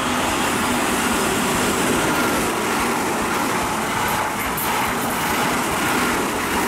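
Steady rumbling roar of a local stopping train running along the tracks between two closely spaced stations in Japan, continuous and fairly loud, with no voices.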